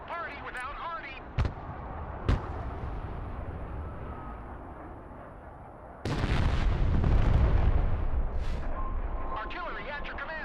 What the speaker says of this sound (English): Artillery at your command, sir.